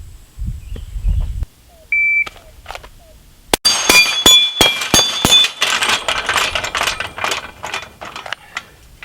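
A shot timer gives a single short electronic beep at a shooting practice, followed by a rapid string of sharp gunshots with metallic clinks of brass.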